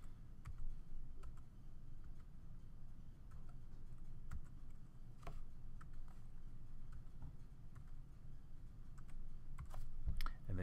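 Computer keyboard keys tapped to enter a long verification code of capital letters and numbers while setting up an online parent portal account; fairly faint, irregular clicks over a low steady room hum, with no talking.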